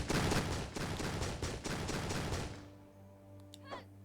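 Blake's gun in RWBY: Grimm Eclipse firing rapidly, a dense stream of close, loud shots with a quick regular rhythm for about two and a half seconds, then stopping, leaving a low hum and faint effects.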